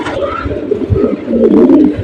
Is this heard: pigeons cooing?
yes